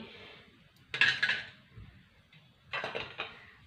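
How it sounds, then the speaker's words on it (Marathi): A spoon stirs gulab jamun in warm sugar syrup, producing two short bursts of metallic scraping and clinking separated by a quiet pause, close by. "चमच्याच्या साह्याने थोडंसं मिक्स करून घ्यायचं"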